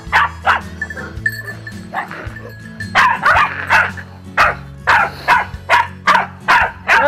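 A neighbour's dog, tied up outside a house in the Valle Elvo countryside, barks repeatedly in loud close bursts, with short yips between them and a steady rhythm that keeps going through the later seconds.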